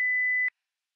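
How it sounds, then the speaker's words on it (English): Synthesized tinnitus tone for the right ear: one steady pure beep held for about half a second, then cutting off abruptly into silence. "mapped to the volume level and spectral complexity of tinnitus tones heard in your right ear"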